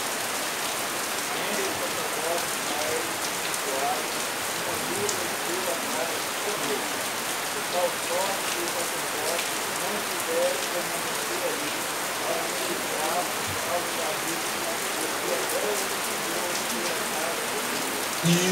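Steady rain falls continuously on a surface, a dense even patter of drops heard close throughout with no pauses or other clear sounds.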